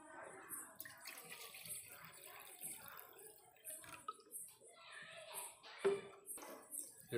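Water is poured out and replaced in a basin for washing, faint sloshing and splashing with scattered drips, and a soft voice is heard at times.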